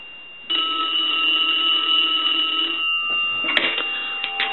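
A single-slot payphone being repaired rings during a ring test, a loud sustained electronic ring that starts suddenly and holds for over two seconds, then cuts off and is followed by clicks and handling noise.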